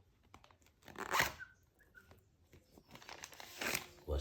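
A magic wallet being opened by hand: crisp crinkling and tearing-like rustles in a few short bursts, close and fairly quiet, with small clicks between them.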